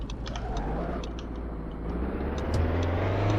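A Lamborghini Temerario in the Driving Empire video game cruises at low RPM, a smooth, moderate engine drone that stays fairly even, then rises slightly in pitch and loudness toward the end.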